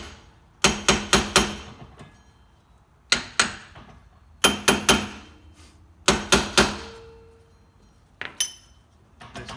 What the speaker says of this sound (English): So I'm just going to tap this on the side.